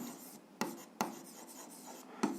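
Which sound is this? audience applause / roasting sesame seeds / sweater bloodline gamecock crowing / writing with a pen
writing with a pen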